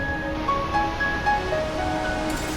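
Waterfall in southern Brazil seen from above, a steady broadband roar of falling water filling the whole clip, constant and fairly loud with no voices.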